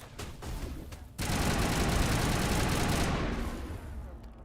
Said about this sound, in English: Let's get the assault rifle out.